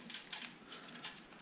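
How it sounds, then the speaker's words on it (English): Heavy rain falling outdoors, heard from inside as a faint, steady hiss with soft irregular patter throughout, no voices. "I don't know if y'all can hear it raining outside"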